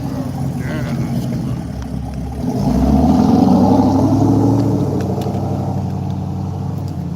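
A car engine revs up loudly nearby, swelling to a throaty peak midway and then easing back to a steady rumble, with people talking faintly underneath.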